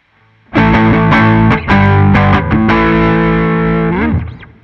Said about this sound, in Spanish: Ahora activamos el pedal de distorsión.